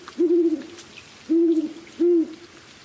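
Three low, steady Mexican spotted owl hoots spaced about a second apart, clear against a quiet outdoor background.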